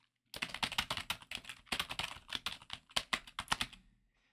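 Rapid typing on a computer keyboard, crisp close clicks in quick uneven runs with short pauses, heard alone against near silence.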